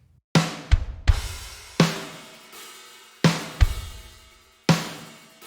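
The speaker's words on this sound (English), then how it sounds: "here's a drum mix of a track I was working on" A sparse drum mix plays alone through Ohmicide-S distortion: booming kicks and sharp snare hits ring out with long decays in a slow, heavy groove.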